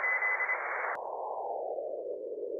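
Steady Morse code sidetone from an amateur radio receiver, a band of hiss that drops to a narrower, lower band partway through as the narrow filter is switched in, with a faint continuous tone over it, no talk.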